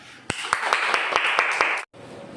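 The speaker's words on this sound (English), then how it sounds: "Please clap." Students clapping in a classroom, a burst of sharp hand claps lasting about a second and a half before stopping abruptly, followed by quiet room tone.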